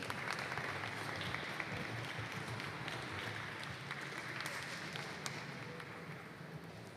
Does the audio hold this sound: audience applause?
yes